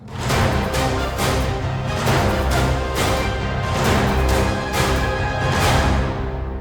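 Full orchestral music plays continuously, with sustained strings and regular percussive hits, loud and dense throughout, with no voices.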